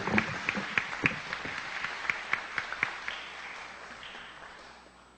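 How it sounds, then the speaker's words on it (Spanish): An audience at a conference or forum in Áncash applauding, a dense burst of clapping with sharp individual claps that gradually fades out over about five seconds. "Fuerte los aplausos, por favor."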